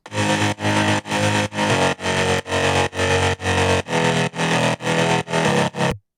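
A heavily processed two-layer mid bass from a progressive house track pulses in loud, dense, distorted chunks, about a dozen even rhythmic hits separated by brief gaps, playing alone.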